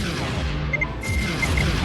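Ion cannon fire in a space combat video game, a steady dense run of booming energy shots under continuous battle noise, with faint talk mixed in.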